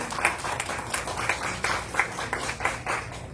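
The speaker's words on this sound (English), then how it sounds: "give a round of applause for our recent graduates of Westside Leadership Academy" Audience applause honoring Westside Leadership Academy graduates at a school board meeting, steady dense clapping from a crowded room, moderately loud and continuous without voices.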